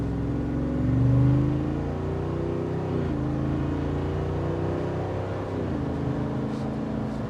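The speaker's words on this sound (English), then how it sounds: "It's a symphony every time you push the throttle." A 2025 Jeep Wrangler Rubicon 392 engine pulls under throttle with a deep, steady drone, rising in pitch through gear shifts and easing back, heard from inside on Florida roads without speech.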